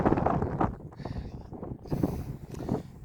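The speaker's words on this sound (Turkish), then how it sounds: "esinti çok güçlü." Strong wind gusts by a roadside near a mountain monastery buffet the microphone in a rough, fluctuating rumble, fairly loud and close, with no clear talk.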